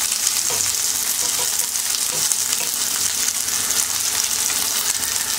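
Onions sautéing in a pan for a fenugreek kulambu, a close, steady frying sizzle with faint stirring clinks mixed in, even and unbroken throughout.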